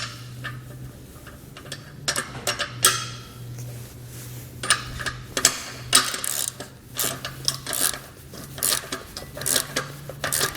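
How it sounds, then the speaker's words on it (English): Ratchet and wrench tightening nuts on the bolts of a Malone EcoLight Sport trailer frame, heard as repeated close metallic clicks and clanks in irregular bursts over a steady low hum. "You can come back with a ratchet and a wrench and tighten it down."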